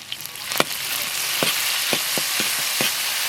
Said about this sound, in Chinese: 锅里留点油，下入葱姜蒜、干辣椒，来1勺辣子酱